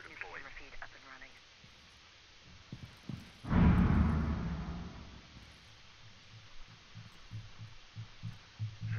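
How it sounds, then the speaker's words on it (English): Rainbow Six Siege heartbeat sensor gadget in the video game, a deep low throbbing pulse swelling loudly for a couple of seconds mid-clip, then fading into faint repeated beats, with a person talking under and around it. "Heartbeat sensor deployed. Repeat up and running."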